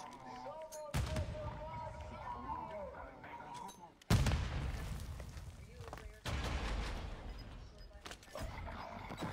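Gunfire in a Warzone gulag video game fight, sharp loud bursts and shots breaking out in clusters with rumbling tails, with people talking over the shooting.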